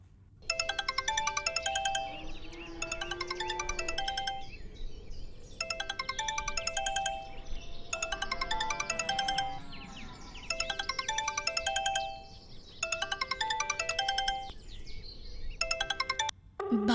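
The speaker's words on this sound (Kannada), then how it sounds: "ರಿಂಗ್ ಆಗ್ತಾ ಇದೆ, ಮಾತಾಡು." A mobile phone ringtone rings in a film scene, a melodic electronic tune that repeats in regular bursts with short gaps, sounding clear and fairly close with no talking.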